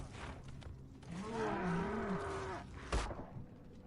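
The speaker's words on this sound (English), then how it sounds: "Are you just gonna stand there mooing the whole time" A large antlered animal in the prehistoric game Far Cry Primal gives a drawn-out, wavering moo-like bellow, low and sliding in pitch, over ambient game noise and ending in a sharp thump.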